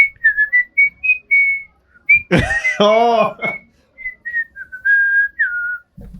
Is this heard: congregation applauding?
no